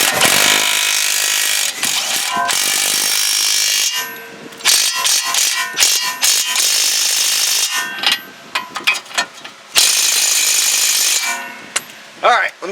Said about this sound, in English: We're going to hit it with the impact, then I'm going to hit it with the ratchet.